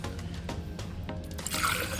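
Fresh cool water pours into a container with a lid, first as scattered drips and splashes, then a fuller, steady trickling stream near the end, close and fairly quiet.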